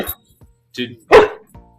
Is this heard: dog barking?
yes